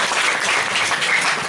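Audience applause at an Islamic religious lecture, a brief burst of dense, even clapping from a crowd, loud and steady with no voices over it.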